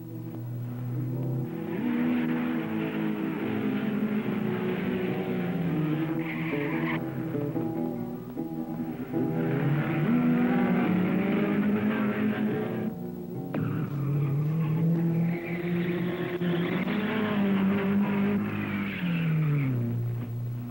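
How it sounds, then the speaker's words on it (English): A race car engine on the circa-1960 Chimney Rock Park mountain hill climb revs hard and repeatedly rises and falls in pitch, with brief breaks for gear shifts, loud and close. "this Chimney Rock Park mountain climb sets up some strange problems, like having to shift gears 40 or 50 times in about 4 minutes"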